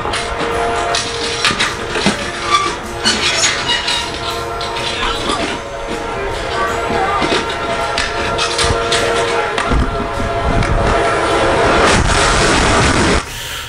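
A train approaches on the tracks, heard as a loud, rumbling, rising roar with rattling metallic clatter and a sustained horn-like tone building toward the end, in a played recording.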